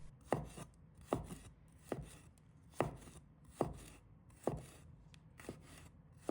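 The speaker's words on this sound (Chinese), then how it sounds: "把它切成小块。" A knife chops garlic into small pieces on a board, eight crisp, evenly spaced strokes about one second apart, close and fairly quiet, with no voices.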